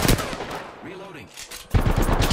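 Rapid automatic gunfire in Apex Legends comes in loud, close bursts at the start and again near the end, separated by a quieter gap in which a voice speaks.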